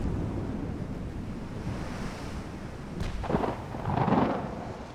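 A torpedo fired from a warship in an 1896-era naval strategy game, heard as a rushing splash and swell of surging water over a steady low sea-wind rumble, building midway and fading out.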